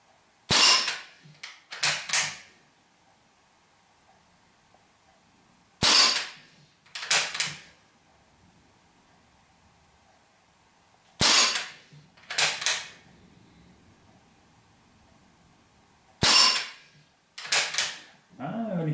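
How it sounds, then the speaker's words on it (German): A Ruger 10/22 air rifle fires at a target in four spaced-out bursts, each a sharp, loud crack followed by quick clattering, with near silence between. "das war der letzte der 10 Schuss"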